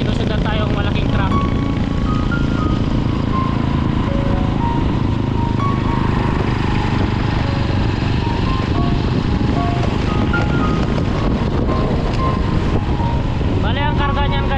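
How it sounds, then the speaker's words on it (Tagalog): A big truck loaded with cucumbers, squash and chayote being followed on the road by a motorcycle rider, steady loud engine and road noise throughout, with tonal whines rising and falling over it. "May sinusundan tayong malaking truck."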